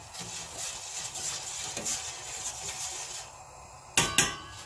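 Momo filling is stirred in a bowl with a utensil, steady scraping and rubbing close by, followed near the end by two sharp clinks of metal against the bowl.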